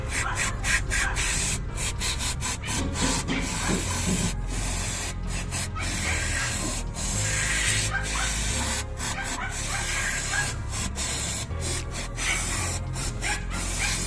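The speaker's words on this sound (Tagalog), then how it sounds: "mag-spray tayo ng kanyang solenoid." Continuous hissing spray aimed at a vehicle's solenoid to wash off caked mud, up close and steady with brief breaks and pulses, over engine-bay background noise.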